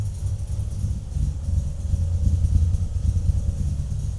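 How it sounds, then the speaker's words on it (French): A sleeper car's engine idles with a low, steady rumble. It stays fairly quiet and even throughout, with no voices. "Elle tient le ralenti"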